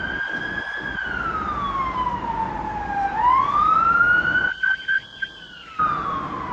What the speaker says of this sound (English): you hear these sirens